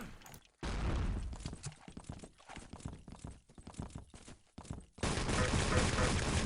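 Rapid gunfire from a Wolfenstein: Enemy Territory match, a dense run of sharp shots in bursts with brief gaps, swelling into a loud continuous volley at the end.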